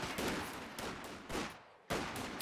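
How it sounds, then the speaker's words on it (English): Gunfire in a competitive strategy video game match, heard as several dense bursts of rattling shots in quick succession with short gaps between them, loud and close. "all of a sudden the silence turns into gunfire here."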